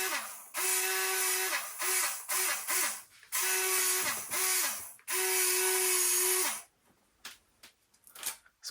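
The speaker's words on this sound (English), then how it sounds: "It's pulling back the winch pretty nice, guys." A small electric winch on a 1:10 scale RC military jeep reels in with a whirring, ratcheting motor sound in repeated short and longer pulls, then goes quiet apart from faint handling noises.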